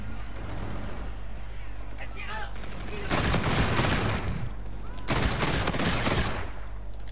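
R-VN rifle burst fire in Call of Duty: Infinite Warfare, two loud sustained volleys of rapid shots a couple of seconds apart, with a voice talking over the game.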